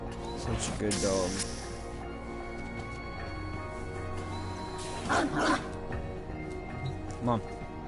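A dog barks in the video game Warframe in a few short bursts, loud and close, over low background game ambience.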